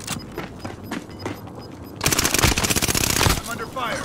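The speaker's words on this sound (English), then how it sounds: "I'm under fire." Rapid automatic gunfire in a battle royale video game: scattered single shots first, then a loud sustained burst of fast rattling fire, with voices talking around it.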